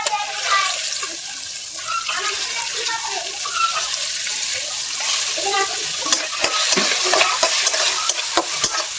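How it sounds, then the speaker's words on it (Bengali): Spice paste being fried and stirred in a pan with small local shrimp, a steady sizzle with scraping stir strokes, fairly loud and close, with faint talk at times. "মশলাটা কষা নিলাম মশলাটা কষানো হয়ে গেছে"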